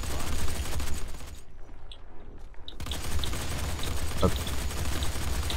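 Rapid, loud automatic bursts from an assault rifle in the Doom 4 beta shooter, dense repeated shots with a short pause in the middle, while someone briefly speaks.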